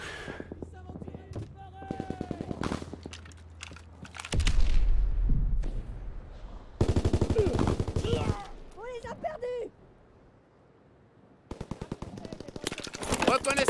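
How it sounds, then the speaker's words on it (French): Heavy gunfire in a Call of Duty game: bursts of automatic fire and booming impacts come in waves, loud and close, broken by quieter stretches with scattered shots and chirping game sounds. "On essuie des tirs nourris."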